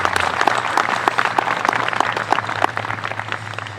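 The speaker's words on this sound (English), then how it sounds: "So let's give Commander Gallagher a nice round of applause." A crowd applauds at an outdoor 2021 Memorial Day ceremony in DeKalb, Illinois: dense, continuous hand clapping with distinct claps sounding throughout, moderately loud over a low steady hum, with no talking.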